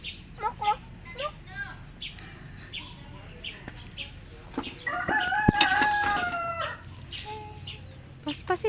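A rooster crows once in the middle, a drawn-out call rising over nearby people chatting and background clatter.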